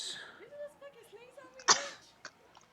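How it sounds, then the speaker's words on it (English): A person sneezes once, sharply and close, in the middle of quiet background voices, followed by a smaller catch of breath. "did you fucking just sneeze on me?"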